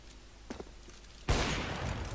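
Gunfire in the video game CS:GO: after a quiet stretch with a couple of faint clicks, a loud, dense burst of shots erupts and keeps rattling steadily to the end.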